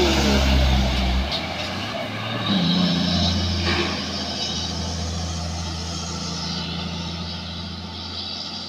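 A palm oil truck bound for Sinabang strains up a steep climb after stalling, its engine giving a loud, steady low rumble that swells near the start and then holds, with distant voices faintly present.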